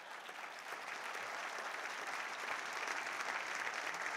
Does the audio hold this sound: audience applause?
yes